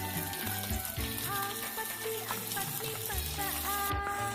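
Fish grilling on a banana leaf in a nonstick pan while seasoned oil is poured over it, a steady close sizzle and crackle running throughout without talk.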